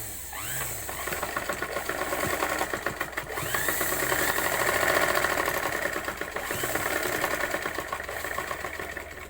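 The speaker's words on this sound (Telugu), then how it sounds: "మళ్ళీ డబుల్ స్టిచ్ అనేది చేస్తున్నాను" A sewing machine runs steadily while double-stitching a lace trim onto a puff-sleeve piece, its motor hum and needle clatter continuous and close.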